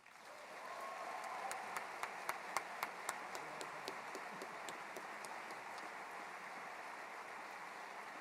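Concert audience applauding a pianist at a gala: steady, dense crowd clapping sustained across the whole stretch, with a few sharper individual claps standing out early on, moderately distant.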